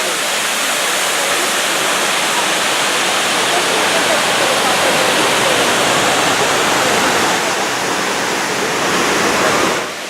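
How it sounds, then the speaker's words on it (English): Water at the World Trade Center memorial fountain in New York pours in a steady, loud, broadband rush that fills the whole stretch, like a waterfall heard up close. "This is one of the fountains where the old tower used to be as a memorial"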